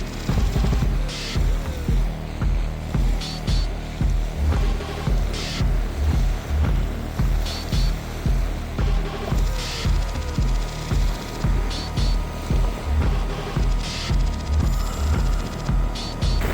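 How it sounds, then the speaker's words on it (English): Strong gusting wind at a lake during a storm, a loud rushing roar that surges and eases in a regular rhythm, buffeting close to the microphone with a faint hum in the background. "Gusting hard here at Cluculz Lake."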